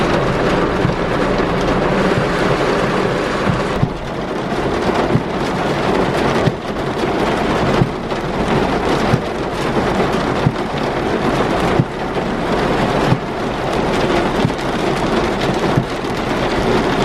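A heavy rain storm at Ras Mokkos pours down steadily and loudly, with deep rolls of thunder swelling through the downpour and no voices.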